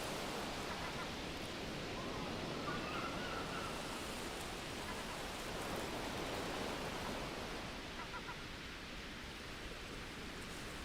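A small stream spills over the edge of grassland above a beach as a little waterfall, giving a steady, even broadband rush of falling water that holds constant throughout with no voices.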